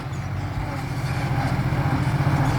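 An Isuzu six-cylinder diesel truck engine runs at a steady idle-like throb, close and fairly loud, with an even low rumble and no talk over it.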